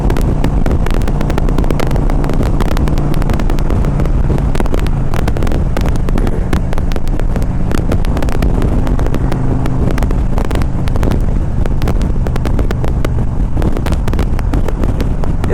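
A 2001 Harley Davidson Ultra Classic motorcycle cruising on a windy day, its low engine rumble heavily buffeted by loud, continuous wind roar across the microphone, steady throughout with no talk.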